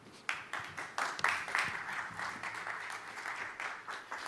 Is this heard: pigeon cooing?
no